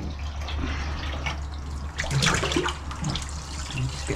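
Water running and splashing as a freshly caught trout is rinsed at a fishery, a steady close gush with brief sloshing bursts in the middle.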